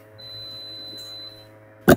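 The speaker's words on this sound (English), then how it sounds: "sorry about those beeps in the background" A steady electronic cockpit tone in the GeoFS flight simulator hums faintly in the background during a landing for nearly two seconds, then a short louder blip cuts in at the end.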